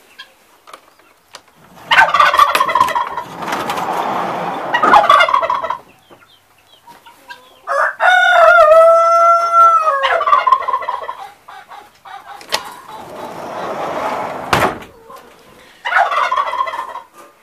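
Turkeys on a farm gobble in loud, close bursts, several rapid warbling calls separated by short pauses of quiet, with no talking over them.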